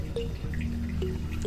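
Leftover rainwater trickles from a rainwater harvesting pipe with soft, close dripping and a thin splashing flow over a low steady background hum.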